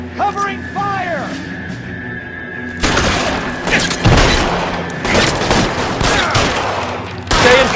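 Heavy gunfire erupts in an L.A. Noire shootout. Dense overlapping shots and booms follow a quieter opening, the volleys stay loud and sustained, and a horse whinnies briefly at the start.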